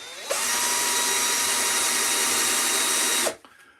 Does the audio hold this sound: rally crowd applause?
no